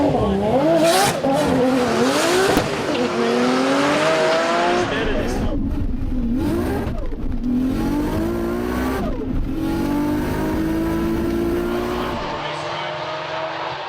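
A Nissan R32 GT-R drag racing in Forza Horizon 3 revs hard through rising gear pulls, engine howl sweeping up repeatedly with tire noise, loud and continuous to the end.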